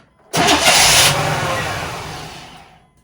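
An old Chevy OBS ranch truck engine cranks and nearly catches, bursting into a loud roar that fades steadily over a couple of seconds without running. It is close and loud, with no talking.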